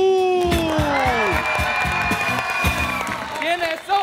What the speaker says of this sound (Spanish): ¡Aplausos para el equipo de